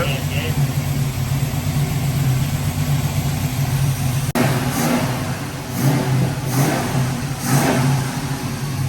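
A 1980s-style Chevrolet El Camino, started after eight years of sitting, idles close by with a low steady rumble, then revs in several rising bursts after a sharp click, with someone talking over it.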